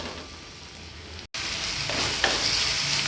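Chopped onions frying in about four spoons of oil for an aloo curry, a continuous close, bright sizzle with a brief cut partway through.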